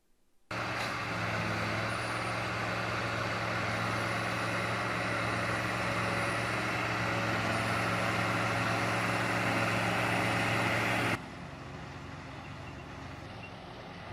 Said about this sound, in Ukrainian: Фуражир.